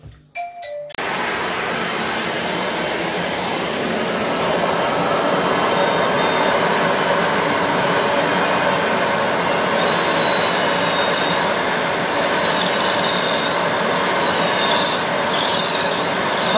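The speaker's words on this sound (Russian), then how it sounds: "Получается, вся пыль туда уходит, да, в пылесос?" A vacuum cleaner starts abruptly after a brief quiet moment with a steady, loud whooshing motor roar that runs continuously, with a faint whine drifting in over it.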